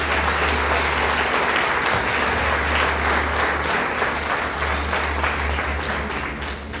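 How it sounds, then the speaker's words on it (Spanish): Sustained applause from a church congregation fills the clip, a dense steady clapping that stays loud and continuous from start to finish with no voices on top. "¿Qué tal si le das un aplauso a mi Dios?"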